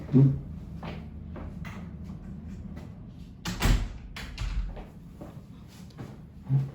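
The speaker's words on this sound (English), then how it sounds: "let me close my door" A house door being shut at home, with soft handling noises, then a firmer thud of the door closing midway and another knock at the end, heard close in a quiet room.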